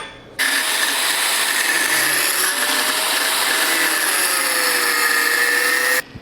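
An angle grinder cuts through steel round rod for a rat rod crane sculpture, a loud continuous high-pitched whine with a steady abrasive hiss lasting several seconds before it stops abruptly.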